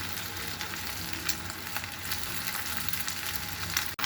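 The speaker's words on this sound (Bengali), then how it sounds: "এটাকেও আমি হালকাভাবে ভেজে নিব।" An egg fries in a pan of hot oil with onion, giving a steady, close sizzle and crackle that runs unbroken throughout.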